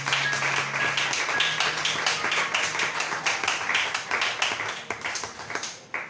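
A congregation at a Sunday church service claps in praise. The applause is dense and continuous, with a steady wash of overlapping hand claps that lasts the whole stretch and eases off slightly near the end.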